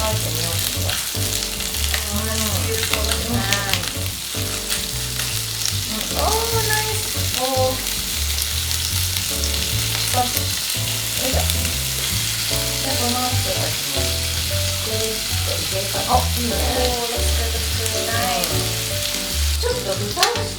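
Chicken yakitori skewers sizzle in a pan, a loud continuous frying hiss with popping crackles running steadily throughout, close up, with occasional faint knocks of the pan and lid.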